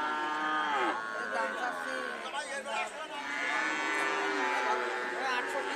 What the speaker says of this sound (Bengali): কি জাতের গরু এটা?